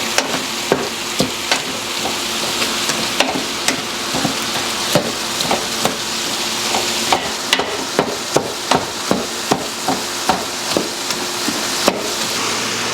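Food frying in a pan for meal prep, with a steady sizzle under repeated sharp knocks and scrapes of a utensil flipping and stirring, near and loud, with no talk.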